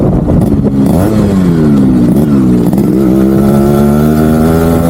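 A Yamaha RX100 two-stroke motorcycle engine revving loudly up close, with a rough, buzzing note that climbs and settles in repeated swells before holding a steady high idle.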